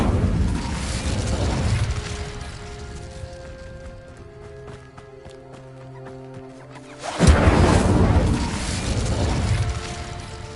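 An Incendio fire spell goes off with a burst of whooshing flame, falls into a crackling, mechanical lull, then erupts again in a second loud fiery blast near the end. No one speaks.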